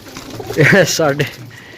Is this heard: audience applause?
no